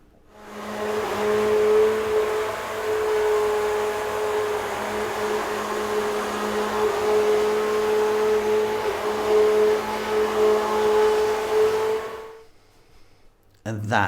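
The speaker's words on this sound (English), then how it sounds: "What we're going to do now is we're going to liquidize this. Now I've got one of those ones that go in there, you know, and whiz it up." Hand blender whizzing lentil soup smooth, a steady motor drone with a sustained whine holding for about twelve seconds before cutting off abruptly.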